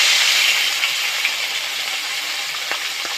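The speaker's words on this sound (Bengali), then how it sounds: "তেলটা গরম হলেই মাছের মাথাটা দিয়ে দেব। এখন মাছের মাথাটা দিয়ে দিচ্ছি।" A bhetki fish head fries in hot oil with a steady, loud sizzle and hiss. Now and then a soft clink or stir cuts in, and no one speaks.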